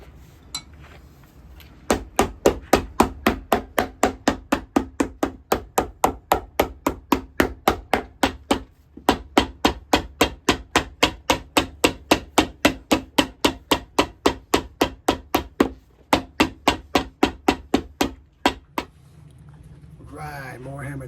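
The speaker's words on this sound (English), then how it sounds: "more hammer time" A hammer strikes rubber soles onto leather shoes in a steady run of dozens of close, sharp blows, with one brief pause partway through and a quiet stretch at the end.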